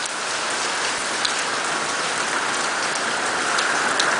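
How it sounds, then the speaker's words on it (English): Hail falls steadily during a Southern California hail storm, a dense close hiss of countless small impacts with occasional sharper ticks, even and continuous throughout. "It's just hail, buddy."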